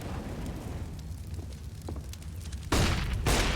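A Molotov thrown in Counter-Strike on the Inferno map bursts into a sudden loud whooshing flare of flame near the end. Before it comes a steady murmur of in-game background noise.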